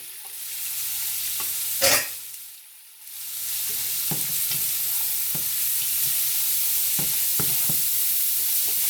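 Onions caramelizing sizzle steadily in a hot frying pan while a utensil scrapes and clicks against it, with one louder stirring scrape early on.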